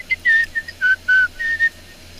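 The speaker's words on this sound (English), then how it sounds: "He's so good at whistling," A person whistles a short, wavering tune in several quick notes, close and clear, with no talking.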